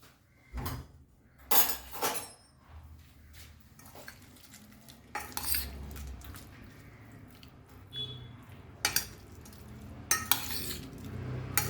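A spoon knocks and scrapes around a pot of Goan salted pork amsol with red chili, giving a scattered run of sharp metallic clinks and soft stirring scuffs over quiet kitchen background, with no voices.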